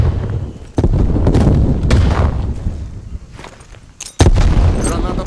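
Frag grenade blast in Call of Duty Black Ops Cold War: sharp, loud booms with rumbling tails, one early and a heavier one near the end, amid continuous game combat noise and scattered gunfire.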